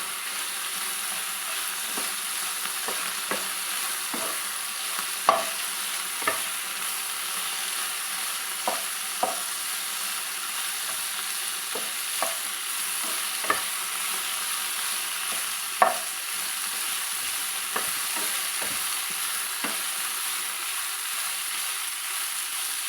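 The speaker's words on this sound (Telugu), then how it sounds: "ఇట్లా అన్నీ కొంచెం కలర్ మారదాక ఫ్రై చేసుకోవాలండి." Ingredients for an old-style nalleru chutney fry in a pan with a steady soft sizzle, while a spatula scrapes and taps against the pan at irregular intervals throughout.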